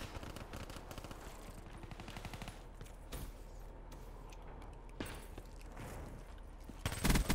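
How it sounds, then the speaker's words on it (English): Rapid automatic gunfire in Black Ops 3, fairly faint and distant, rattling in quick repeated bursts with a few louder single shots and a closer burst at the end. "That's not even the guy that was shooting"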